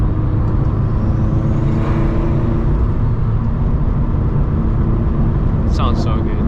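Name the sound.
turbocharged Subaru BRZ turbo noises while driving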